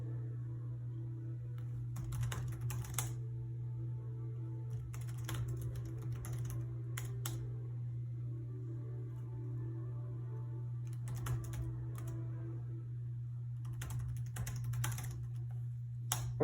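Keys on an HP DV6 laptop keyboard are tapped in short bursts of quick clicks separated by pauses, over a steady low electrical hum in a quiet room.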